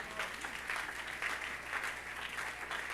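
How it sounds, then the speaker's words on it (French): Congregation clapping at a French-language church sermon on redemption, steady, moderately distant applause throughout without speech over it. "Frère, vous devez applaudir pour le Seigneur."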